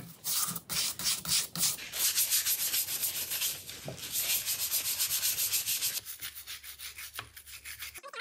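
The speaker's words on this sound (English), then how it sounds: "I'm just gonna give it a little scrub here with the brush and work off any grease or oil that's on these parts" A brush scrubs rusty 4-jaw lathe chuck parts soaking in Evapo-Rust, close rhythmic rubbing strokes in quick bursts, loud and without speech.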